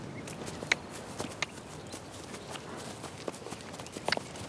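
A horse named Honcho walks along, its hooves landing in sparse, irregular clip-clops against a steady outdoor background hiss, fairly quiet and close.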